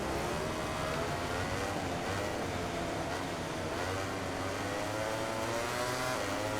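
A MotoGP 2018 motorcycle from the PS4 racing game at Phillip Island, ridden as Lorenzo, drones at high revs in a steady, sustained engine whine that rises slightly, heard alone without talk.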